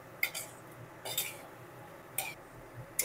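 Spice masala with yogurt is stirred in a pan for a cauliflower and potato curry. Four sharp, quiet spoon scrapes and clinks on the pan come at roughly one-second intervals over a soft background.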